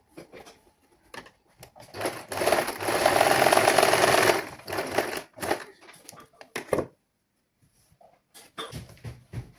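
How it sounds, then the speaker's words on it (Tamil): A sewing machine stitches frock pieces together in a few bursts, one sustained run of rapid clattering in the middle, with short start-stop rattles before and after. "இப்போ 2 பகுதியும் தைச்சாச்சுது"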